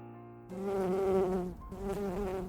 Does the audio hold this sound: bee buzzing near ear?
yes